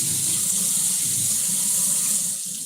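Water runs steadily from a kitchen tap into a sink, a continuous bright hiss that eases slightly near the end.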